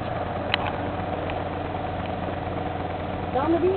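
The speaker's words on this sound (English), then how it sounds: "a boat coming out of the water" A boat engine idles on a beach with a steady, low rumble throughout as the boat comes out of the water, with a brief sharp click early on and faint voices mixed in near the end.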